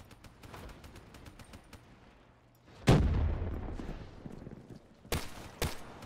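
Shots from a Man of War rifle fire in Call of Duty Black Ops 3 Zombies, a quick scattered rattle followed by one heavy booming blast and two sharper bursts near the end, fairly close.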